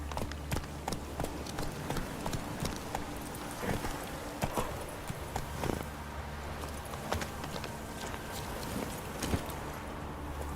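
Roach, a horse in The Witcher 3 video game, gallops with steady rapid hoof clip-clops over a constant low ambient hum, close and even in rhythm.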